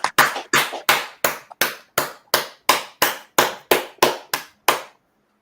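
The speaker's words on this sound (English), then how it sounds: "Clap it up." Hands clap in a slow, regular rhythm, about a dozen sharp, close claps evenly spaced before stopping, heard alone without talk.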